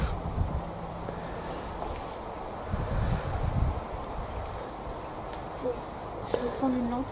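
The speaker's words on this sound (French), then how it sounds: "Donc il y a un léger petit vent" Light outdoor wind rushes steadily into the microphone, with gusty low rumbles and occasional soft bumps, while faint voices are heard near the end.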